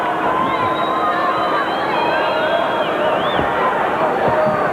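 Restive crowd murmuring in a Tampa arena during a boxing championship bout, a steady loud babble filling the space while a commentator speaks over it.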